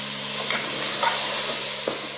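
Goat brain fries steadily in hot oil, a dense close sizzle with a few soft stirring scrapes, no voices.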